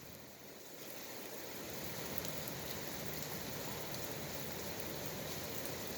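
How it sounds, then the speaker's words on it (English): Steady rain falls on a surface for about six seconds, a continuous dense patter that swells slightly at the start and then holds even, with no voices. "It's raining, folks."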